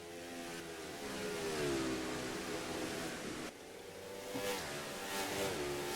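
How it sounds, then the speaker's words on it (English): Several loud stock car engines rev and climb in pitch as cars accelerate past one after another out of corners in a racing video game night race, a continuous roaring drone with no talking. "just how well they accelerate."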